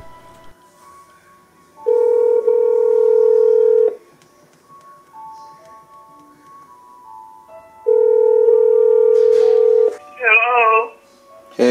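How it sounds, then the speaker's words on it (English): A phone call is dialed through an Emeet conference call speaker, giving two long steady ringback tones a few seconds apart, loud and close, followed by a warbling ring and the start of a voice. "I'm going to make a phone call"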